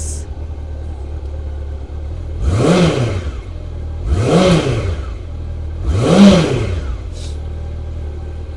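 A Honda CB750 (RC42) motorcycle engine idles steadily and is revved three times in even succession, each rev swelling loudly before dropping back to idle.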